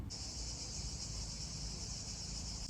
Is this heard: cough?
no